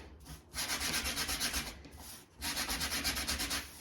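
Sandpaper rubbing back and forth along the edges of a wooden sunflower sign, close and steady in two long rhythmic bursts separated by a brief pause, with no talking.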